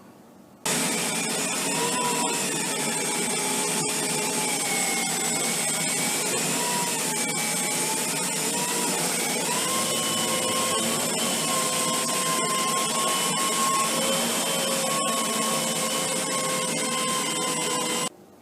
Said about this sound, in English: we run the vacuum over it to see whether it will pick up everything right up tight against the wall